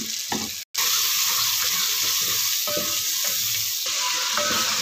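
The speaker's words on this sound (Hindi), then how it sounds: "आधा चम्मच हल्दी का डालेंगे और अच्छी तरह से भून लेंगे मसाले को" Spice masala of red chili powder, salt and turmeric frying in a pan for chicken dopyaza, a loud continuous sizzle with repeated spatula scrapes and a brief cut near the start.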